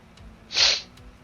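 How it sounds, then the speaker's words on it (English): One close, loud human sneeze bursts out sharply and fades within a second, with near-silence on either side. "Oh, I'm going to sneeze."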